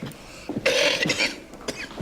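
Harsh coughing from a man in an old thriller film scene, a short single cough followed by a louder burst of two or three rough coughs, close and clear with no talk over it.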